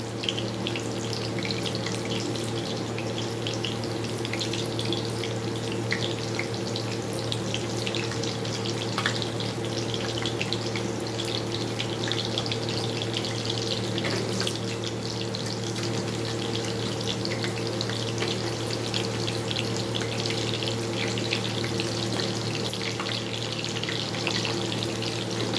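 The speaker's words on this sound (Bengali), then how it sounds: "আলু পটলগুলো ভাজবো, তার আগে আলু পটলগুলোকে ছেড়ে দিচ্ছি কড়াইতে।" Potatoes and pointed gourd fry in hot mustard oil in a wok, giving a steady, even hiss and crackle that runs unbroken and fairly close throughout.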